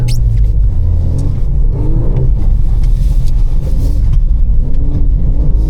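A manual Volkswagen Golf R engine drifting, heard from inside as a loud, constant low rumble with rising and falling revs and faint tyre squeal, steady throughout.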